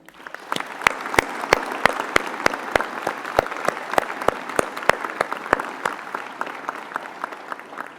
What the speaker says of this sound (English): please join me and others on the stage in a round of applause in their honor.